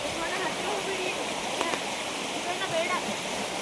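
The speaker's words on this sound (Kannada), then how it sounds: "ಈಗ ಇಲ್ಲಿ ನೋಡಿ ಯಾವ ಥರ ಕೆಂಪು ನೀರು ಬರ್ತಾ ಇದೆ ಈ ಕಡೆ ಎಲ್ಲ. ಇದು ಮೇಲ್ ಗುಡ್ಡದಿಂದ ಬರ್ತಾ ಇದೆ." Red, muddy rainwater from heavy rain rushing down off a hillside beside a farm house, a steady, full watery roar and gurgle with faint voices in the background.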